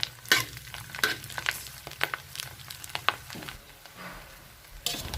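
Squid is dry-roasted over low heat in a pan with only a little oil, making a soft continuous sizzle broken by repeated scraping stirs and clacks of the utensil, close and fairly quiet.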